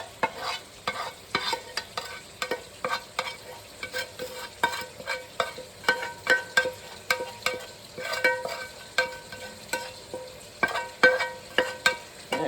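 Sautéed onions and garlic go into a pan of frying ground beef, sizzling steadily while a spoon stirs and scrapes in a regular rhythm of close, sharp scrapes.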